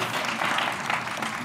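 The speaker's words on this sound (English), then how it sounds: "Give a round of applause for Jerry" Audience applause for a man named Jerry at a live show, a steady wash of clapping hands that holds at an even level throughout, with no clear voices over it.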